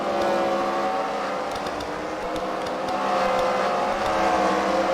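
A checkered race car from team Hello Newman rallies through a Freedom Factory fight-night round, its engine droning loud and steady with layered tonal whine, no voices over it.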